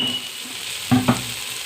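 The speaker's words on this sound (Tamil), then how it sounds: "வதக்கி வச்ச சுண்டக்காய் இதில் சேர்த்துக்கலாம். இதையும் கொஞ்சம் வதங்கலாம்." Turkey berries (sundakkai) being sautéed in a pan for kuzhambu give a low sizzle, with two brief stirring scrapes close by and no talking.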